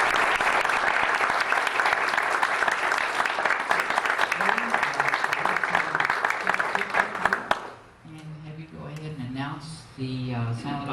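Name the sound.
applause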